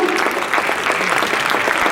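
Dense, steady applause from a crowd fills the whole stretch, many hands clapping at once without pause.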